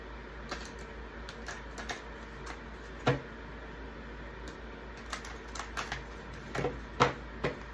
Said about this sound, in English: Let me shuffle it one more time.